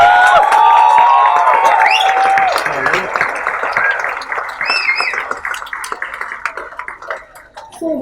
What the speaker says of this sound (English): Please give a round of applause to the rock star of